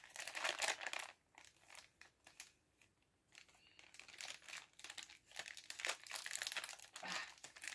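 Scissors snipping and cutting through crinkly plastic and cardboard packaging of a Kingdom Hearts mystery box, close and busy, with rustling and crunching bursts and a brief quieter pause in the middle.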